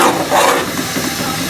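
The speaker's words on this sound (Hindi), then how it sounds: "बस अब ढक्कन खोल दूंगी, इन्हें हम थोड़ा सा ठंडा कर लेंगे, इनकी भाप निकल जाए।" Steam hisses steadily from cooked rice in a pot just after the lid is lifted, a soft continuous rushing sound with no talk.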